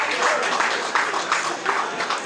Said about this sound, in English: Can we clap with the energy?